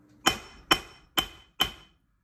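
Four sharp metallic strikes of a 2.5-pound hammer on a metal stamp, evenly spaced, each ringing briefly before fading; close and loud with quiet between blows.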